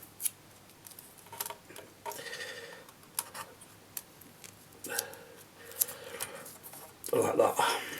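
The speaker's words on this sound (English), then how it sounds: "I'm going to just stick a bit of tape" Strips of tape being pulled off a roll and pressed onto an Xbox 360 during a mod, a series of short scratchy rips and faint taps, closing with a longer, louder tearing burst.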